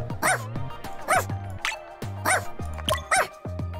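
A dog in the video game Wobbledogs barks over and over, about five close, evenly spaced yaps with no talking around them.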